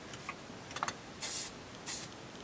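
Two short hissing bursts of hairspray, close up, separated by a pause, with faint clicks and rustles before them.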